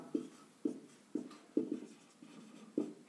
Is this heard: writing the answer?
yes